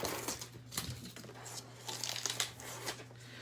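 A Cricut-cut Halloween card being peeled off the cutting mat, with continuous crinkly tearing and rustling at close range and no talking.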